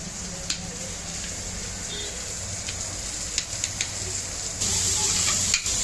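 Tomatoes fry in a pan with a steady, close sizzle and crackle, and a few light clinks of stirring break through before the hiss grows louder near the end.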